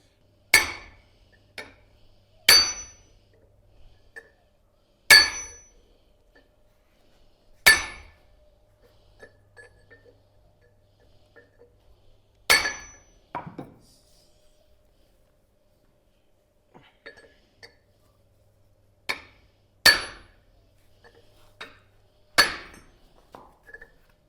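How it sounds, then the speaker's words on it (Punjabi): A hammer strikes a tool to drive a cotter out of an electric motor pulley: sharp, ringing metallic blows in a loose, uneven series with pauses between, close and clear with no talking. "ਹੁਣ ਇਹਦੇ ਨਾਲ ਸੱਟਾਂ ਮਾਰਾਂਗੇ ਆਪਾਂ"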